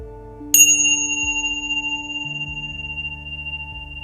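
A meditation bell is struck once, its bright metallic ring sustaining and slowly fading over several seconds above a steady low droning tone, with no talking.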